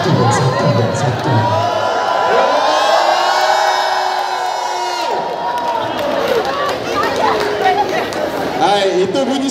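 An audience at a film event for a Malaysian movie cheers and whoops loudly with excited shouts and chatter, a sustained close crowd roar that rises and falls throughout.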